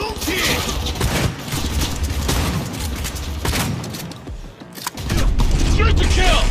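Sustained gunfire in the Cyberpunk 2077 video game, dense rapid bursts and booms under and alongside shouted voices, loud and continuous throughout.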